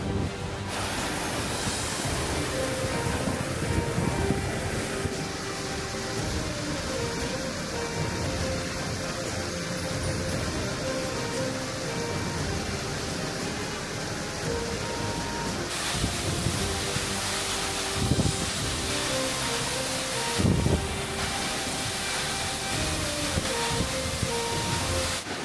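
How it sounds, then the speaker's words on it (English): Takizawa no Fudotaki waterfall in Gunma, Japan gives off a steady, broad rushing roar that holds evenly throughout, with faint occasional sounds from people nearby. "This is the waterfall I've always wanted to come back to."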